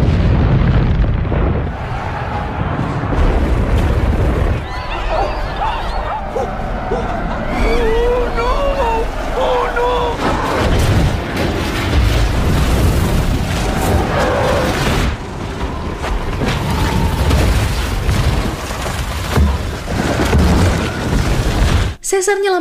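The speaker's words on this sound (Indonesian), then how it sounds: "Karena banyak ledakan, salju di gunung itu longsor." Explosions and a snow avalanche on a mountain in the film Rise of the Planet of the Apes: dense, continuous rumbling booms fill the scene throughout, with a voice talking over the dramatic roar.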